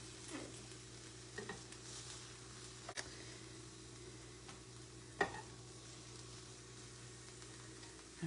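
Onions sauté on an electric grill and griddle with a faint, steady sizzle over a low hum, broken by a few soft ticks and clicks; no one speaks.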